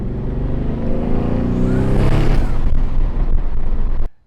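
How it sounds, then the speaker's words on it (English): A manual Audi C7 S6 on a first drive, engine revving up with quick blips through a shift, loud and close, building to a peak and then cutting off abruptly. "The car shifts, there's some little rev like blips that it does when it shifts."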